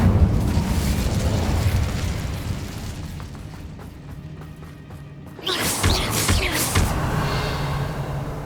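A fire spell bursts in the Hogwarts Legacy video game, a sudden loud whooshing blast about two thirds of the way in that rises over a steady rumbling backdrop and then crackles on.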